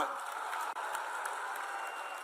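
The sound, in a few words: audience applause at election rally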